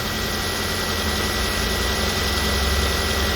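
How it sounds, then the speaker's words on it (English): A Hyundai Kona, Ioniq or Kia Niro engine runs steadily at a loud, constant drone with a low rumble and no voices. "the engine just cranks up by itself."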